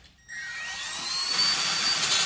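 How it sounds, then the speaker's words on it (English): A Dremel-style rotary tool with a carbide bit whines up to high speed and keeps a steady, piercing high-pitched grind while cutting the port of an Echo 7310 chainsaw, loud and close. "You can use a Dremel."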